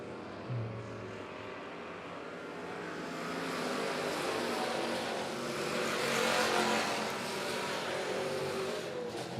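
Race cars roar around the dirt oval at Monett Motor Speedway in a continuous wash of engine noise that swells as the pack passes, loud and steady with no voices.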